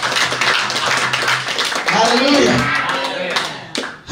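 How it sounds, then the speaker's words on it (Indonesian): A congregation claps hands at a church revival service, quick irregular clapping filling the first half before a voice talks over the room and the clapping thins out. "memang gua lagi seneng tepuk tangan aja dulu"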